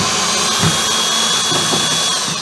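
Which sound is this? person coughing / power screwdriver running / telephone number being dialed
power screwdriver running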